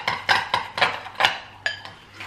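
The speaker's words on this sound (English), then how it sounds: "And then we're just gonna stir this up. It doesn't say whisk or anything like that, it just says mix" A ricotta mixture for low-calorie tiramisu stirred in a bowl, producing a series of close, rhythmic scraping strokes of a utensil against the dish, about six distinct beats with a short pause.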